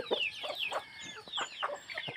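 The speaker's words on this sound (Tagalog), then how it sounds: "Ang marinig mo dito, tuktok-gaok ng manok at saka tunog ng ibon." Chickens cluck repeatedly in a rural village, with several birds making short, overlapping calls at close to moderate distance and a steady background of bird sounds.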